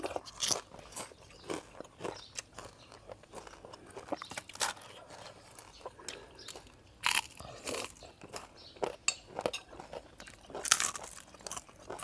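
Crunchy chewing of side vegetables eaten with a bamboo shoot curry cooked with puffball mushrooms, close to the mouth, with irregular sharp bites and crunches spread across the stretch and no talk.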